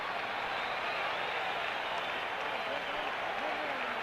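A stadium crowd at the 1977 MLB All-Star Game in New York roars and applauds in a dense, continuous wash of cheering, with a voice talking over it.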